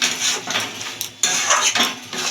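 A spoon scrapes and clinks against a pan while stirring a mashed potato and egg filling seasoned with garam masala over medium heat, with steady scraping strokes through a brief pause and no talk.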